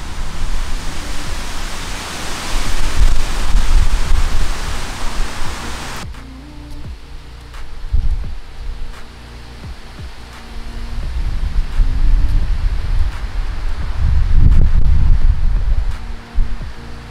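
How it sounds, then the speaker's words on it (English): Wind gusting across a Saramonic XML microphone outdoors on a windy day, with loud, steady rumbling buffets that ease after a few seconds, then swell again in waves toward the end, with no talking. "I'm just doing a wind test right now."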